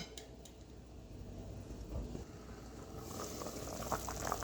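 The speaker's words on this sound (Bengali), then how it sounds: "এখন এটা ঢেকে রেখে দিই মাংসটা এবং আলুটা সিদ্ধ হওয়ার জন্য" Chicken curry with potatoes simmering in a covered pot gives a quiet, steady bubbling that grows slightly busier toward the end, faint and close with no voices.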